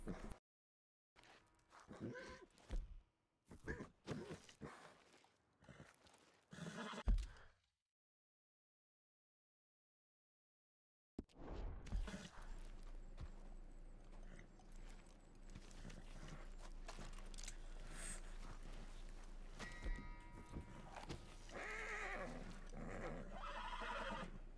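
A horse in the video game Red Dead Redemption 2 whinnies amid scattered clip-clops and footsteps, then a brief silence gives way to a dense, continuous layer of game ambience and effects.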